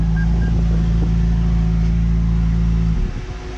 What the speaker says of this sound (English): My cooling fans are on extremely loud.